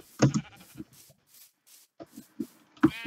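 Sheep in the Minecraft video game bleat in short separate calls, a loud pair near the start and more at the end, with quieter blips and shuffling between.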